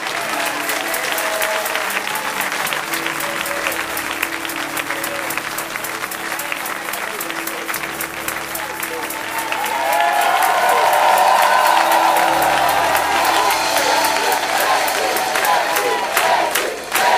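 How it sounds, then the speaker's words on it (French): A church congregation applauding and cheering, with dense, loud clapping that swells partway through into louder cheers and rhythmic claps, and voices mixed into the crowd. "On acclame Jésus."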